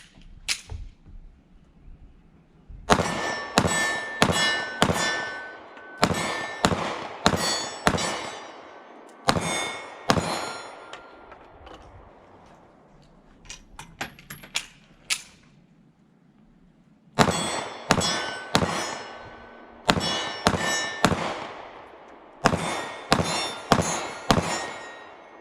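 A SCCY CPX-2 pistol fires rounds in quick clusters of sharp, loud reports, each volley followed by a short pause and then another string of shots, heard outdoors with no talking.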